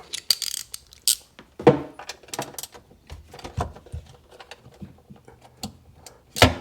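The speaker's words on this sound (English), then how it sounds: "That's the wrench I like to go in reverse, just by cranking it." A ratchet wrench cranks out 10 mm bolts on a Sea-Doo 787 engine, giving rapid, irregular clicking ratchet bursts with metallic knocks, close and fairly loud.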